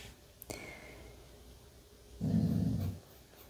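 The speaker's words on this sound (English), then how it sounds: "my dog is growling" A dog growls in a low, rumbling burst lasting under a second, fairly close, disturbed by people building outside; a faint thump precedes it and the rest is quiet room tone.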